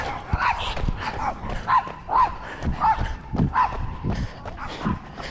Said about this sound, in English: We got the dogs.